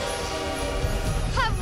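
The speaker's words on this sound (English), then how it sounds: "It's a magic train." A magic train bound for the North Pole rumbles past with a loud rolling low-end roar, then a short wavering horn or whistle blast sounds near the end.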